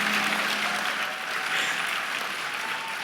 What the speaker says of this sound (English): You should applaud for that.